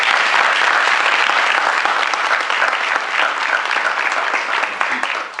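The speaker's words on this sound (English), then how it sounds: "Please give Representative Morgan another round of applause." Audience applause fills the room for a state representative at a Valdosta, Georgia event, a steady, dense wash of clapping that holds loud for several seconds before easing slightly at the end.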